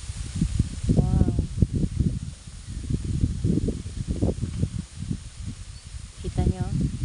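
Strong wind sweeps across open farm fields, a steady broad rush with gusts under and between voices talking nearby.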